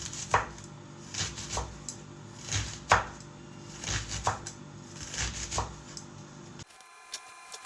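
Green onions being chopped on a board, a series of soft, uneven knife strikes and scraping rubs close by, fading into near silence at the end.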